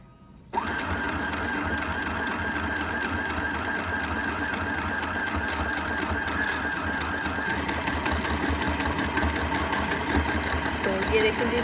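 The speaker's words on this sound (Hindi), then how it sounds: "चलें अमरीन आप सिलाई लगाएं इसको। तो यहाँ पे आपने सिलाई लगानी है।" A sewing machine stitches the neckline of a shirt or kameez, starting abruptly and then running as a continuous fast, rattling whir close by for over ten seconds, with a voice speaking over it.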